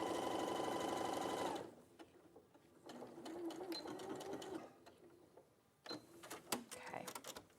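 A sewing machine stitching fabric runs in a steady, fast mechanical whir for about a second and a half, then stops, followed by quieter clicks, rustles and handling noises at low level.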